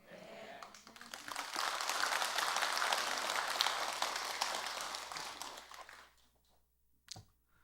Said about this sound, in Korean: 여러분이 박수 쳤으니까 이제 그만할까요?